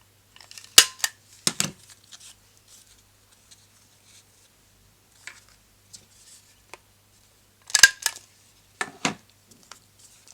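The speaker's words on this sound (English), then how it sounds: "Let's staple this on the sides." Sharp, clicky stapler strikes fastening the sides of a handmade 3x4 card: two close pairs of crisp snaps, one early and one later, with quiet handling sounds between them.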